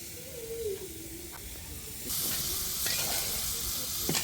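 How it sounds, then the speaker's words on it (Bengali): Fish fries in a pan over a wood-fired stove, giving a close, continuous sizzle and hiss that grows louder partway through, with a few sharp crackles and pops. "মাছ ভাজা হচ্ছে"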